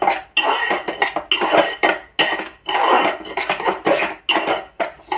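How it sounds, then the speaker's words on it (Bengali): Semolina being lightly dry-roasted in a pan for a milk-based pitha, with steady scraping and clinking of a metal utensil against the pan in irregular strokes, close and fairly loud, with no talking. "এবার এই দেখুন সুজিটা আমি হালকা করে ভেজে নিচ্ছি।"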